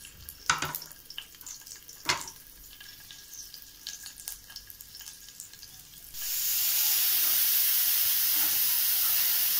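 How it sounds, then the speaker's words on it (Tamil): Onions with garlic frying in oil in a kadai: scattered clinks and light stirring taps come first, then a loud, steady sizzle rushes in and holds to the end, with no voices. "ஆனியன் நல்லா ஃப்ரை ஆயிடுச்சு"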